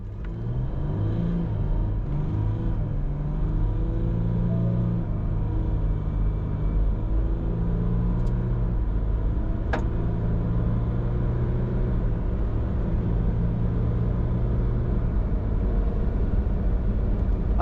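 A Ford Ranger Wildtrak V6 ute accelerates hard while towing a trailer dyno, its engine droning loud and steady throughout with a rising rumble and faint whir, no voices present.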